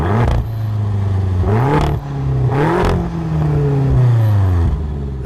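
A 2013 BMW M5's 4.4-liter V8 revs loudly and close, climbing and falling in several pitch sweeps with a deep throaty drone between them and no talk.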